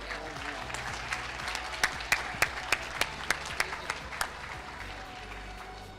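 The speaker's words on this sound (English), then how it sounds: "Can we give them a round of applause, please?" Applause from an award ceremony audience at a national ICT summit, a moderate patter of clapping with a run of loud, evenly spaced claps close by standing out in the middle.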